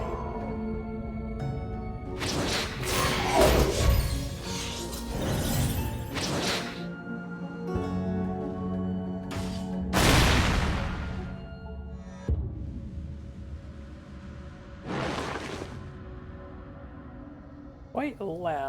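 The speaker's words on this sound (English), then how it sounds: "Quite loud explosion sound effects." Loud, punchy explosion effects from the video game Crown Trick, several booming blasts with sharp whooshing bursts spaced through the stretch, mixed with game music and a person talking over them.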